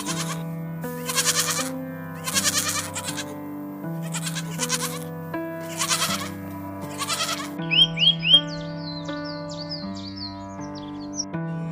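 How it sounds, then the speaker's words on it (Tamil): A flock of sheep and goats bleats in repeated wavering calls over a steady musical backdrop, then bird chirps take over toward the end. "ஆபேல் ஆடுகளை மேய்த்து ஆட்டு மந்தைகளை உருவாக்கினார்."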